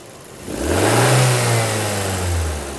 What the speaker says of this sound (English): If I increase the trottle,